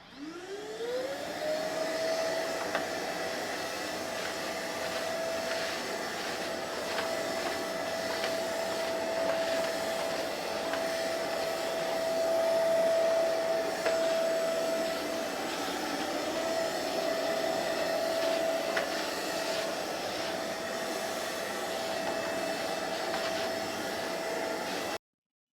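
A MOOSOO cordless wet-dry shop vacuum powered by a Makita battery spins up quickly, then runs with a steady, close whine and airy rush for the whole stretch, with no voices.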